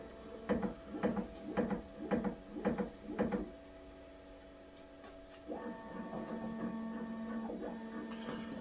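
A Bambu P1S 3D printer runs its vibration calibration: six rhythmic buzzing pulses in a row, a short pause, then a sustained steady tonal hum, fairly quiet and close with no talking.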